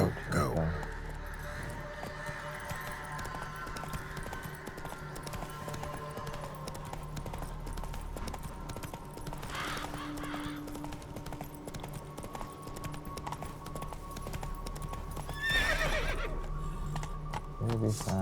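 Roach the horse in The Witcher video game, galloping with rhythmic hoof clip-clops and neighing loudly now and then, under game music and a voice talking.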